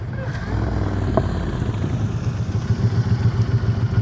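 Motorcycle rolling at slow speed during an advanced slow-riding practice session, steady low engine drone with throttle held up, continuous and fairly close, with a voice talking over it.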